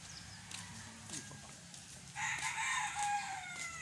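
White Kelso gamefowl roosters are kept with hens in Baguio City. After a few quiet clucks and faint background noise, one rooster lets out a loud drawn-out crow midway that holds to the end, fairly close.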